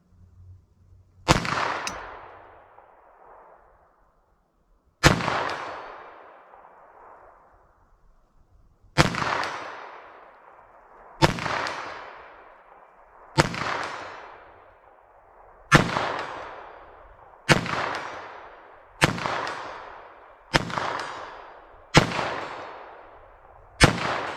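Ten sharp gunshots from a semi-auto .22 LR rifle firing Federal Punch rounds at a 75-yard target, spaced irregularly a few seconds apart, each loud crack trailing off into a short outdoor echo, with no talking.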